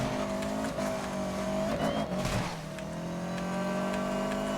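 Porsche 918 Spyder racing in Need for Speed: Most Wanted (2012), a loud, continuous engine drone that rises and falls with gear changes, with a brief screech of tires partway through.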